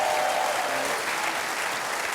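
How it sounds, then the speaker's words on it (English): A studio audience applauds steadily and loudly at a televised Australian football panel show, the clapping continuous and dense for the whole moment with no voices over it. "Round of applause."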